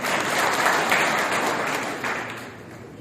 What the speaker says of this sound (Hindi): उनका भी जोरदार तालियों से स्वागत करें